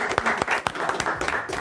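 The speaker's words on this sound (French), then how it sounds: "on peut continuer à les applaudir" A small audience claps for freestyle rap battle performers, individual hand claps in a loose irregular rhythm, close and fairly loud, with no voices heard.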